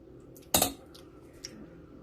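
Bar spoon stirring barbecue Cajun burger sauce: one sharp metallic clink and scrape against the container, followed by a faint second tap, quiet and close.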